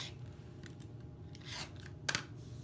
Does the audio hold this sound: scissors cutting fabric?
yes